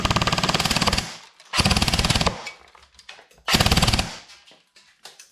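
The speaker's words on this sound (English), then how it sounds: "So here's it in full auto." A Zion Arms R15 airsoft rifle fires full auto in three loud, rapid bursts of about a second each, rattling close up with short pauses and quieter mechanical clicks between them.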